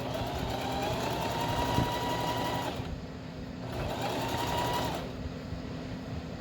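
A sewing machine stitches skirt fabric with a steady mechanical whir and hum, briefly dipping twice before running on again.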